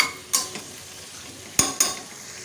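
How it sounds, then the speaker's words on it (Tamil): A spoon stirs vegetables with a tempering of spices in a hot pan for a semolina and moong dal tiffin, four quick scraping strokes over a faint, steady sizzle. "இப்போ இது எல்லாத்தையும் சேர்த்துட்டு நம்ம வந்து நல்லா மிக்ஸ் பண்ணி விட்டுக்கலாம்"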